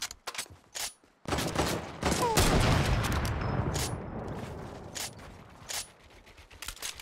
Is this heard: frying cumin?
no